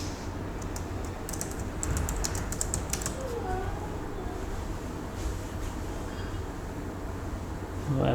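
Names typed on a computer keyboard, a quick cluster of light key clicks early on and then sparser taps, fairly faint over a steady low background rumble.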